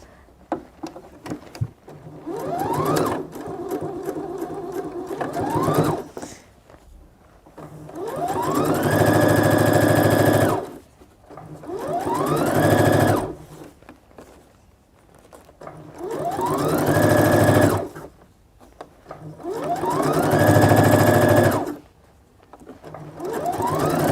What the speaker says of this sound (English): I'm just going to sew the fabric on my jeans.